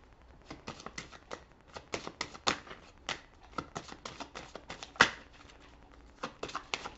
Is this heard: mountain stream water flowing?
no